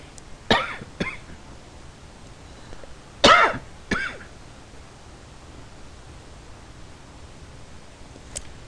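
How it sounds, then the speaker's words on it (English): A person coughing indoors, two quick coughs, then a louder throat-clearing cough with a shorter follow-up, over faint room noise and near silence. "Pardon me, I had some cough."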